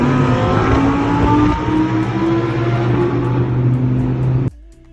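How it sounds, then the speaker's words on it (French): An Audi R8 with a V10 engine roars past close by, a loud sustained howl that swells, then cuts off abruptly as it fades away. No one speaks. "Le fameux V10, qui a fait d'ailleurs encore une fois un bruit magnifique"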